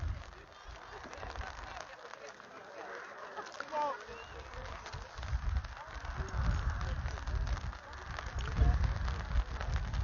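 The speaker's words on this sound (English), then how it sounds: "Hopefully this rain doesn't last too long." Steady rain patters on surfaces at a 13U youth baseball game between the Waterloo Pirates and West Madison, a continuous soft hiss with heavier low rumble from wind and crowd noise swelling toward the end.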